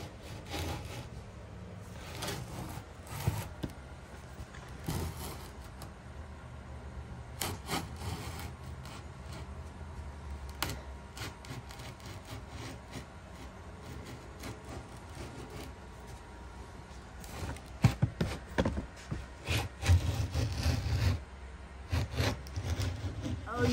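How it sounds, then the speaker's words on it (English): A cutter trims overlaid edging on a board during a low-budget laundry room and pantry makeover, giving uneven scraping, rasping bursts of wood cutting that stop and restart, louder toward the end. "We have this cutter that goes around the whole thing and trims that."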